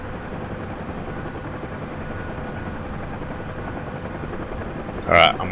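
Helicopter rotor and engine drone from a Vietnam-era flight sim as the aircraft lifts off, a steady loud whir throughout with a brief radio squelch near the end.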